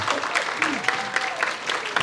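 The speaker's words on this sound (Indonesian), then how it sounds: "Oke, tepuk tangan dulu dong." An audience at an Indonesian alumni talk event with a government minister gives a short burst of clapping, with sharp regular claps and a voice underneath.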